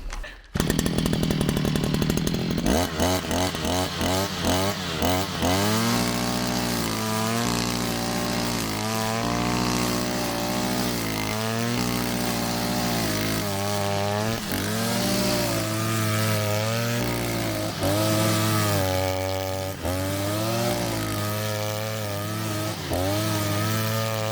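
A Holzfforma FF541R petrol brush cutter with a saw blade roars at high revs, close and loud, its engine pitch rising and falling repeatedly as the blade bites and frees up.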